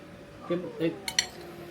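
Utensils clink and scrape against a bowl while vegetable lumpia filling is mixed, a few soft knocks then brighter metallic taps, faint and close over low room noise with a voice murmuring.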